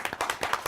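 An audience at a French-language news event gives short clapping, a quick burst of distinct sharp hand claps heard fairly close and alone.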